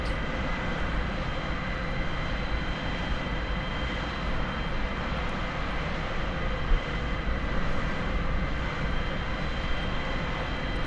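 Steady, loud drone of a Cessna 152's piston engine in flight, a continuous broadband roar with a constant tonal hum that runs unbroken throughout with no voices over it.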